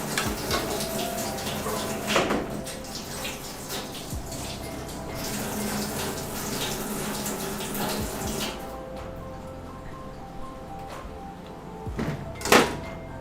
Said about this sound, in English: let me just give these guys a quick little rinse